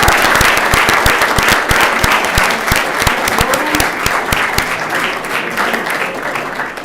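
An audience at a city council meeting applauds Walt Kosmowski for his years of service, a steady round of many hands clapping that stays loud throughout and eases off slightly toward the end.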